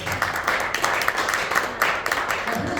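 Audience clapping in a golf club function room after a rope and ring trick, a dense steady wash of many hands applauding throughout at moderate loudness.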